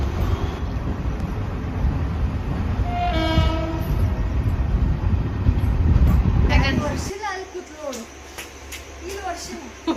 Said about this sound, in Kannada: ಮಸ್ತ್ ಎಲೆಕ್ಟ್ರಿಕ್ ಟ್ರೈನ್.